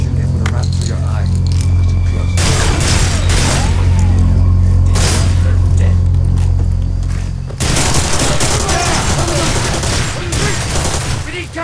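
Bursts of automatic gunfire in the video game Far Cry 2, loud and dense, with sustained fusillades and booms over a humming background, and shouted voices mixed in.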